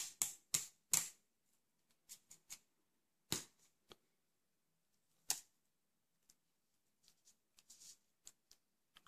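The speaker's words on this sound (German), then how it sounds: "Jetzt benutzen wir ein bisschen Tesafilm." Clear adhesive tape is pulled and pressed onto paper while a paper boomerang is assembled, heard as sharp, scattered crackles and snaps, close and quiet, in irregular bursts with silent gaps between.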